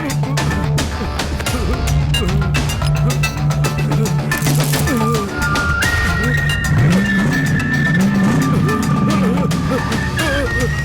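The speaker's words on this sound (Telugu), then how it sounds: "ఒక కారు నన్ను వెంబడిస్తోంది." A car drives along with its engine running steadily throughout, close and loud, with people talking over the engine noise.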